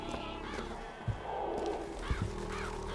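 Ravens caw in BioShock Infinite, a few short raspy calls at moderate distance over a low ambient hum, with sharp thuds in between.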